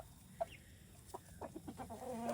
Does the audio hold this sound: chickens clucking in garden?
yes